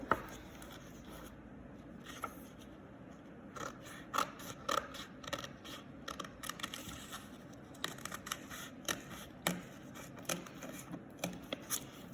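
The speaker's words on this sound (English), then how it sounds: "you're gonna do a couple pages at a time and cut out the shape" Scissors snipping through a few book pages at a time to cut out a pumpkin shape, a quiet, close series of irregular crisp cuts and paper rustles with no talking.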